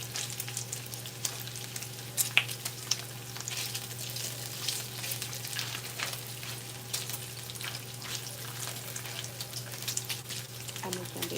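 Bacon sizzling in a frying pan on a home stove, a steady soft hiss and crackle running throughout with a low constant hum beneath and a few faint clinks.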